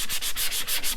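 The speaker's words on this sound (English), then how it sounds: "I'm just going to take my sandpaper" Sandpaper rubbed on paper while making a fall 12x12 scrapbook layout, heard close up as quick, rhythmic back-and-forth scratching strokes with no talking.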